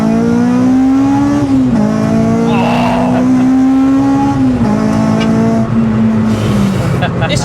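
A naturally aspirated Honda Civic track car, tuned to about 282 bhp, revs hard under acceleration, its loud engine note climbing and dropping sharply at several quick gear changes, with a voice talking over it at points.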